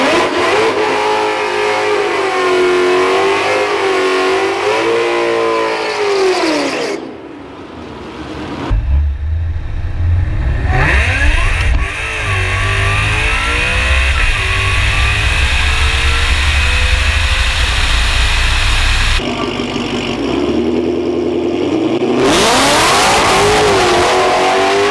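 A FAST 5.0 LSX-powered drag car roars loudly down the drag strip, its engine revving and climbing through gears with sweeping pitch rises and brief breaks between shifts, sustained and close.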